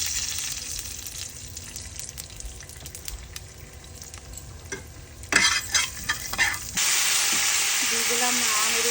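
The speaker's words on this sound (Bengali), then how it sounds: "দিয়ে দিলাম আমেরিকান আলু, আমি একটু ভেজে নেব।" Sliced potatoes go into hot olive oil with five-spice in a pan. Soft stirring and scraping give way to a loud, steady sizzle that runs through the last couple of seconds.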